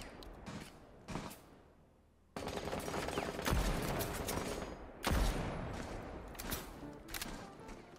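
Gunfire in a shooter video game: bursts of rapid shots, with a sharp, loud pair of blasts near the middle and a quieter stretch of scattered shots at the start.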